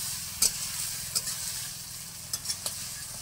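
Food frying in a pan for a fish-roe and potato-plantain dish, with a steady sizzle and a low continuous hum, interrupted by a few sharp scraping strokes as it is stirred.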